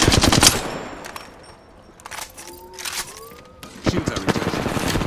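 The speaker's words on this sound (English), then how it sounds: "They're firing on me." Gunfire in the Apex Legends battle royale game: a sharp burst of rapid shots at the start, then scattered shots and game effects, with another dense volley near the end.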